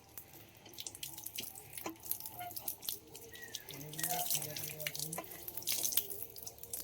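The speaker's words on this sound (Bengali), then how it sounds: "ভালো করে ধুও, চোখ মুখ ভালো করে ধুও।" Running tap water splashes into a sink as a child washes their face, a close steady hiss with irregular splashes, while an adult talks over it and a voice is heard.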